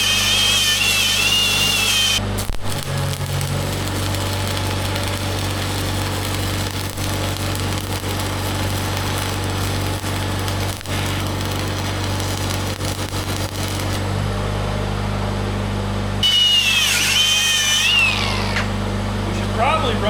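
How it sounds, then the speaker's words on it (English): Angle grinder fitted with a wire wheel working on a Wain Roy jaw bucket for a John Deere backhoe: a loud continuous high whine and rasp throughout, briefly dipping and rising in pitch as the tool loads and frees up. "I'll put the wire wheel on the grinder."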